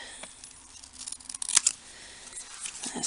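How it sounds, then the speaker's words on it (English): Close, quiet cutting sounds: a few crisp snips and paper rustles, irregular and short, with a sharper snip near the middle. "I'm just going to get my scissors and snip"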